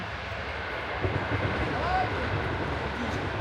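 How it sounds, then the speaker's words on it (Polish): Low, steady rumble of a train passing at a distance, faint and continuous, with some background noise. "Pociąg jedzie."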